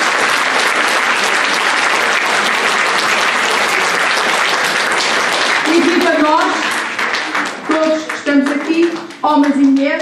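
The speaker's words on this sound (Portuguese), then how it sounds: "uma salva de palmas à Câmara Municipal de Maçã" Loud, dense audience applause fills the room at a Women's Day event, holding steady before thinning out, as voices and a few scattered claps come through near the end.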